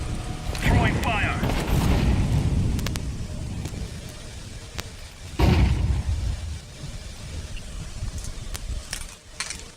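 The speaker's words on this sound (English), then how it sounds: "Grenade out." A grenade detonates in a video game, a deep rumbling blast near 0.7 s rolling on for a couple of seconds, then a second heavy boom around 5.5 s, with a voice talking over the action.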